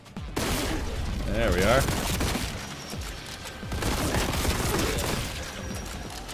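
Bolt pistol gunfire in a video game demo, loud bursts of shots and booms that recur across the clip amid other game noise, with someone talking over the action.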